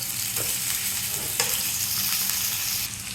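Chicken frying in a pan, a dense continuous sizzle heard close, with a couple of brief stirring knocks and no talking.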